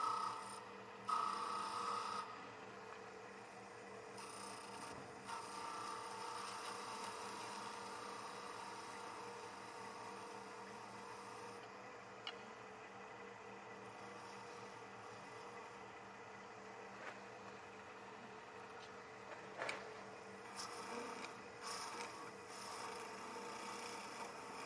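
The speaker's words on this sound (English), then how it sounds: "This is Cindy's detail gouge. And again, we're going to work downhill." Wood being carved with a detail gouge while shaping a winged wooden box: a faint, steady scraping and rasping that continues for a long stretch, with a few soft knocks and no talking.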